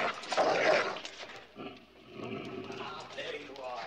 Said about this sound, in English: I think it's a dog.